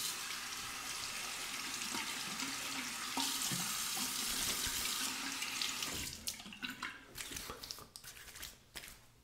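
Tap water running steadily into a sink to rinse the face after a shave, a close hissing splash that breaks into irregular splashes and drips as hands scoop and rinse near the end.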